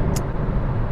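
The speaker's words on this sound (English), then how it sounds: "Timothy, we're driving right now." A car driving along during a ride, heard from inside as a loud, steady low road rumble with a brief faint high squeak near the start.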